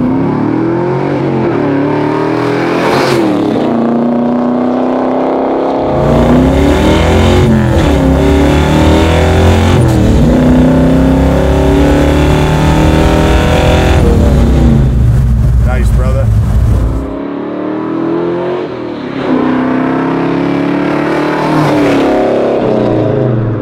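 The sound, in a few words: big block 1970 Chevelle 5-speed manual driving and accelerating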